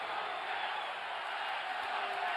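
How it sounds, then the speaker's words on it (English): An arena crowd at an NBA Finals basketball game between the San Antonio Spurs and New York Knicks keeps up a steady wash of cheering and crowd noise, fairly distant and even, with no single voice standing out. "And here comes the crowd"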